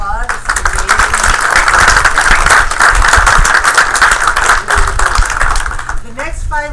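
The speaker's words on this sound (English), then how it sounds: "So just give yourselves another round of applause." Close, loud applause from game studio students, with sharp individual claps in a dense rhythm for about six seconds before a voice begins speaking at the end.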